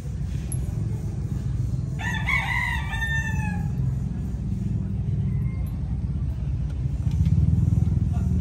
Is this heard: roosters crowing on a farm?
yes